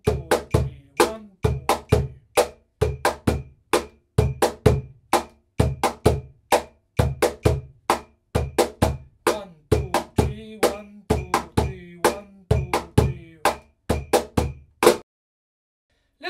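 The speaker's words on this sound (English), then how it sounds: "I'm gonna play a rhythm of chacarera in the cajon," A cajon played in a chacarera rhythm in 3/4 gives a steady run of sharp, close slaps and deeper bass strokes in a repeating triple pattern, alone with no talk, stopping abruptly near the end.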